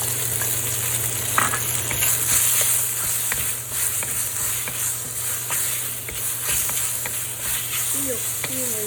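Shredded pork, marinated in soy sauce, sizzles and crackles steadily as it hits a hot wok for a stir-fry with bean sprouts, with scattered clinks and stirring scrapes and a constant hum from a kitchen hood or stove underneath.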